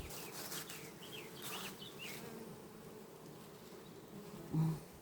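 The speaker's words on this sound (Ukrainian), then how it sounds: "Пчолки літають." A steady, dense hum of many honeybees buzzing around hives outdoors, with individual bees droning past the microphone.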